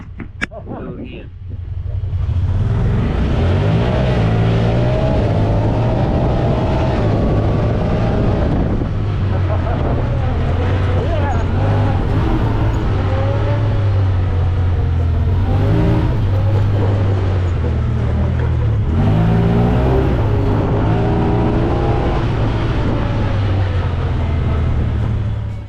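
A 2023 Honda Pioneer 1000-6 Crew UTV drives along, its engine a steady low rumble that rises and falls in pitch as it accelerates, with heavy wind buffeting and people talking over it.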